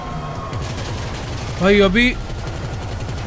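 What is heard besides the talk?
gunfire in video game GTA 5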